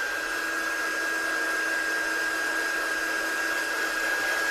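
A hair dryer blowing steadily on a freshly applied decal, a continuous close, even whooshing hum with a thin whine running throughout.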